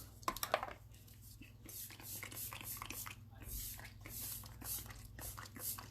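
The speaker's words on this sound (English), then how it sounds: "we are going to spray our makeup with our setting spray" Setting spray mists onto a made-up face in a few short close bursts, under a steady low hum, with a voice speaking around the sprays.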